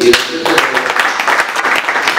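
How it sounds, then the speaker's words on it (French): Applause from an audience at a nomination ceremony, loud and close with sharp individual claps, a brief voice fading under it at the start before the clapping settles into a steady patter. "Nous pouvons l'applaudir aussi."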